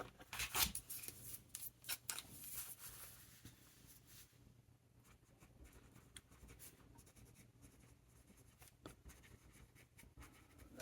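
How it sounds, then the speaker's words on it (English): Fountain pen with a smooth nib writing on paper, soft close scratchy strokes in irregular bursts, quiet throughout with brief gaps between lines. "This has a great nib. It writes so nice."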